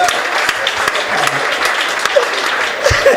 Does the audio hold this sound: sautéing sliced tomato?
no